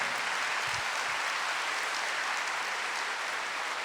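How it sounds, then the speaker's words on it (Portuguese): An audience applauds at a Catholic religious talk honouring Padre Jonas Abib, a dense, steady wash of clapping that holds evenly for about four seconds with no voices on top. "Pode aplaudir que ele merece."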